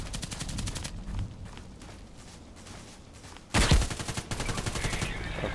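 Gunfire from an enemy player in a multiplayer shooter on Xbox, with soft rapid shots early on and a louder burst of repeated shots near the end.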